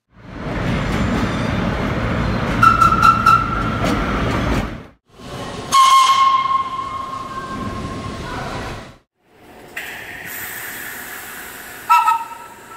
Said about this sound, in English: The R1 R9 fleet was equipped with a whistle made by the Crosby Steam Gauge and Valve Company.